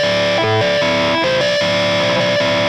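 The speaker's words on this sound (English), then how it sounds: "it sounds like it's on the bridge pickup with a lot of distortion" A heavily distorted electric guitar on the bridge pickup plays sustained, gritty chords with a thick, saturated tone, loud and continuous throughout.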